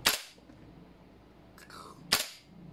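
Two sharp, loud shots from a G&G MGCR 556 airsoft gas blowback rifle, spaced about two seconds apart, close by, with a faint mechanical hiss between them.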